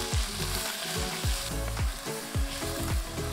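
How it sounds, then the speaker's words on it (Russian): Minced beef or pork with onion frying over high heat in a pot for Korean blood sausage soup, a steady loud sizzle broken by repeated spatula scrapes and stirs roughly every half second. "Тоже регулярно мешайте и жарьте на сильном огне примерно 3 минуты."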